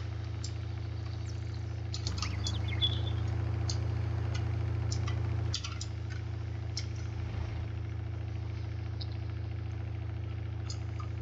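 A gas golf cart in Farming Simulator 19 idles with a steady low engine drone, swelling louder for a few seconds before settling back to an even hum.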